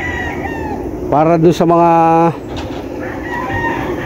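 A rooster crows loudly and close by at a farm with breeding hens and a flying pen, one long harmonic call standing out over background clucking, with a person talking briefly at the end.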